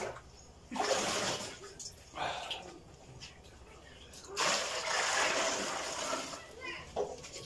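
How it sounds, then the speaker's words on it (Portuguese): Tap water runs in bursts into cooking pans in a home kitchen, with gushing, splashing spells separated by quieter pauses and faint background sounds between them. "A gente vai começar primeiro a meter água aqui nas panas."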